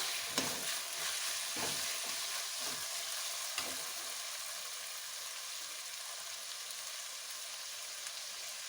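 Finely chopped tomatoes fry and sizzle in a pan while being stirred, with scraping stir strokes in the first few seconds over a continuous soft sizzle that settles into an even hiss.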